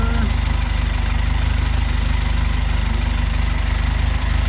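A Mercedes-Benz 190SL engine with Spanish Weber carburetors idles steadily while the idle screw is adjusted, a loud, even, rapid mechanical pulse with a constant high whine, close and continuous without talk.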